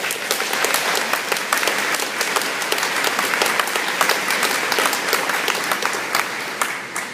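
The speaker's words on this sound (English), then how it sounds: "I appreciate the applause" An audience of teachers and guests at a teachers-of-the-year ceremony gives sustained, even applause, with dense clapping close by and no voices on top.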